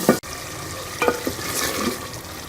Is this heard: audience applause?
no